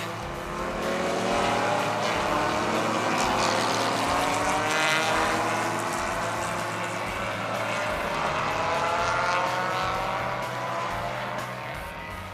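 Historic touring car engines drone and whine as several cars pass on a race track, pitch rising and falling over a steady loud roar, with no talking.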